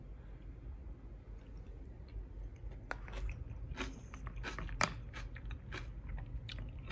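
Crunchy Miyama brand kimchi being bitten and chewed at close range, a few crisp crunches and wet chewing sounds over a low room hum, with no talking.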